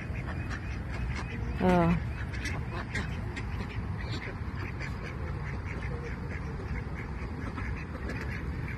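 A short burst of loud duck quacking up close at the Corniche in Al Khobar, Saudi Arabia, then a steady outdoor hum with a brief spoken exclamation.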